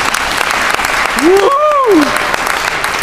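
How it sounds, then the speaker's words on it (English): Steady audience applause fills a graduation-style awards ceremony honoring a distinguished young alumna, sustained broadband clapping throughout while a single spoken word and a brief rising tonal voice pass over it mid-clip. "that's actually worthy of a round of applause"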